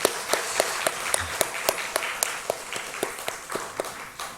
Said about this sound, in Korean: 박수 한번 쳤으면 좋겠습니다.